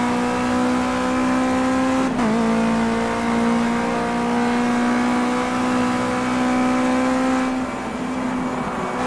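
A race car engine in Project Cars 2 holds a steady high whine through a lap, with a brief gear-shift dip and a later change in pitch, loud and continuous with no talk.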